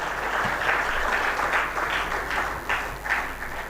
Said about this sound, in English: Can we have a huge round of applause for him?